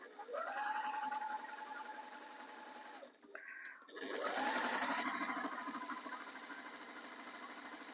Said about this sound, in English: We're going to sew all the way down there